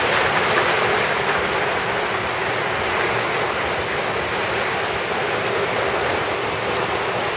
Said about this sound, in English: This is really some rain today.